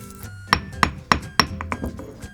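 Black sesame seeds crushed by hand for pancakes, four sharp, evenly spaced knocks close by, followed by a few softer, quicker taps as the pounding trails off.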